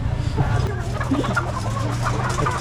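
Chickens cluck repeatedly and irregularly at a busy market in Ubud, Bali, with several birds close by over a steady low crowd murmur and background bustle.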